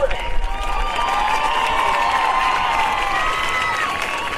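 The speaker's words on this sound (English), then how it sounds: "Ladies and gentlemen, another round of applause for Liberty." Crowd cheering and applause at a marching band invitational for a competing band, a loud continuous roar of voices and whistles with shouts blending into the clapping.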